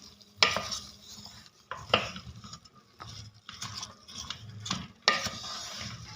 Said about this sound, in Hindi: ये चम्मच की मदद से ये जो मसाला है इसको ऊपर नीचे कर लेना है